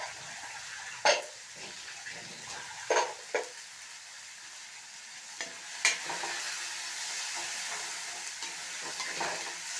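Masala being sautéed in a pan with potato for a spiced dumpling dish, soft continuous sizzling broken by several sharp scraping stirs, fairly quiet and close, with no speech.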